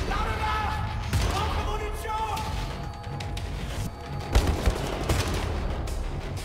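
Enemy gunfire rattles at the player in Wolfenstein: The New Order, dense overlapping shots and bursts running throughout under game noise, with a few louder close cracks near the end and a voice talking over it.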